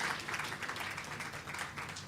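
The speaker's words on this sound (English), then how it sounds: "Give her a warm round of applause" Applause for someone speaker at a graduation ceremony for special education needs teachers, a dense steady patter of clapping from a crowd lasting the whole moment with no voices over it.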